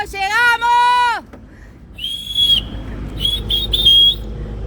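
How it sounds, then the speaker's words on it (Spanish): A voice opens with a falling tone, then a person whistles in short, high, piercing bursts, several in a row, close and clear. "A ver que tengo que silbar."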